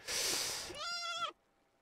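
A Lamball, the sheep creature in the video game Palworld, gives one loud bleat: a breathy onset that turns into a wavering, nasal cry, then cuts off into silence.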